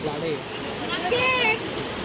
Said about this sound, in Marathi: सगळ्यांना धबधबा भेटले